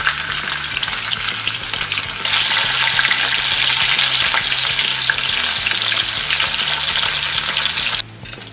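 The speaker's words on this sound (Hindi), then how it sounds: "ये हमारा पनीर भी फ्राई हो चुका है" Paneer frying in hot oil for a mix vegetable sabzi gives a loud, steady, dense sizzle close by that continues without a break. A brief dip comes near the end, and no one speaks.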